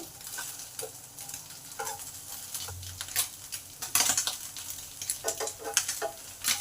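Small mourala fish, freshly flipped, keep frying in a pan as a light sizzle runs beneath scattered metallic taps and scrapes from a spatula, which grow busier toward the end.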